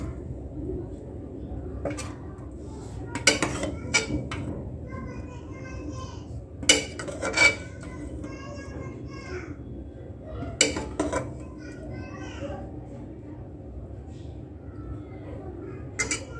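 Cooked bitter gourd curry is served onto a plate with scattered clinks and scrapes of utensils on dishware, and a few sharper knocks between them, while a voice and other speech are heard in the background.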